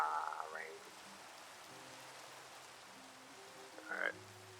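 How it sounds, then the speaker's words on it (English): Steady hiss of rain falling in Minecraft, a constant wash of noise that runs the whole time, with brief tonal game or music sounds near the start and end. "Rain."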